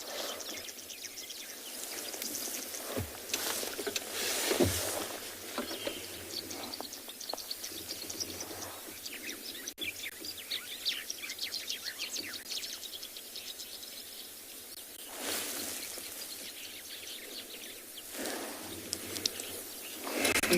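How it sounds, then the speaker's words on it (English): A sunrise chorus of wild birds in the Kalahari, with Cape turtle doves, Cape glossy starlings, sociable weavers and Namaqua doves, keeps up busy overlapping chirps and tweets at a moderate distance, with soft insect buzzing underneath. "I could probably, just from that moment of silence, hear about 5 different birds."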